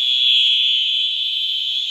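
A home fire alarm shrills with a continuous high-pitched electronic tone, loud and unbroken from start to finish.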